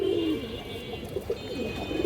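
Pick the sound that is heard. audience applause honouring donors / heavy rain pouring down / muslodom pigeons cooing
muslodom pigeons cooing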